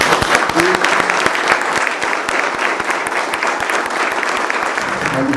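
A conference audience gives loud, sustained applause for the 80th Infantry Battalion. The claps are dense and close and fill the whole clip, with no pause.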